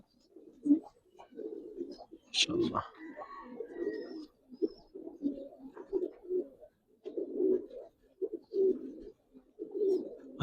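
Giribaz pigeons, a large pure pair, coo in repeated low throaty bursts at close range, with a brief louder flutter or knock partway through and no talk over them.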